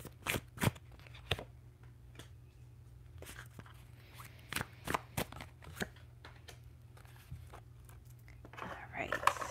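Tarot cards are shuffled by hand at close range, a quiet run of soft riffling bursts and taps spread across several seconds, with no talk over them.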